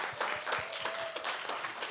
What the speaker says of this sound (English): So I think we have to applaud you for that.